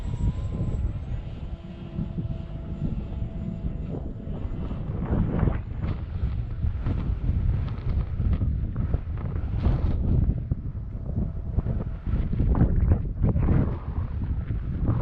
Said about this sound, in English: Even with a headwind like this